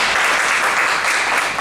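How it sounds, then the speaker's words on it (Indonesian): A church congregation claps together in steady, dense applause that fills the room, loud and even throughout the brief moment. "Tepuk tangan dong."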